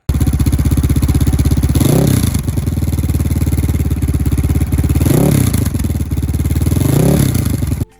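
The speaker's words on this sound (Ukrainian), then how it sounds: "Приклад роботи вихлопу в мене також є, тому слухаємо та насолоджуємося." Loud enduro motorcycle exhaust running close by, a steady throbbing idle broken by three quick revs.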